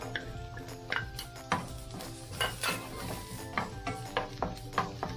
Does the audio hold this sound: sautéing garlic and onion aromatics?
yes